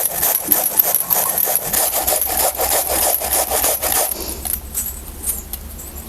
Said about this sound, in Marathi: हे बघा ह्या पद्धतीने आपल्याला किसणीचं आहे ना किसून घ्यायचं